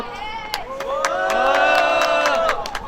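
A crowd of local residents at an outdoor candlelight protest rally against an LNG power plant cheers and claps, a swelling roar of voices with scattered sharp claps, loud and sustained.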